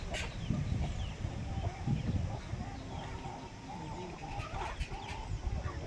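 A one-year-old rooster clucks and calls a few times at close range over steady outdoor background noise, with faint voices now and then.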